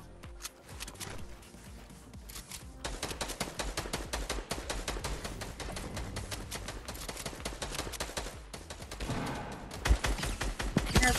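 Rapid automatic gunfire from a shooter video game rattles in dense, continuous bursts, fairly quiet but steady, with a louder cluster of shots near the end.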